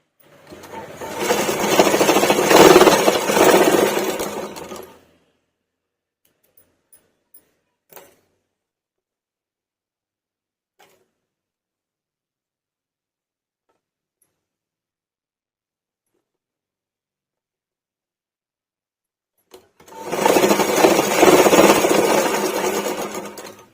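Sewing machine stitching cloth loops onto a baby's kuvali (kunchangi): a loud, steady whirring run of about five seconds, a long quiet gap with a few faint clicks, then a second close run of stitching.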